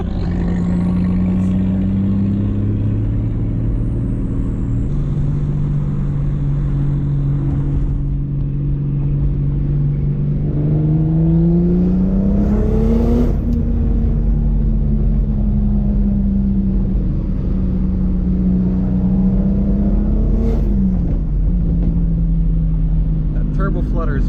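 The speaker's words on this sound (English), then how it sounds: "Turbo flutter is just so adorable" A turbocharged, 2JZ-swapped Mazda RX8 is driven on the road, its loud, steady engine drone rising and falling in pitch, with brief fluttering chatter as the throttle lifts.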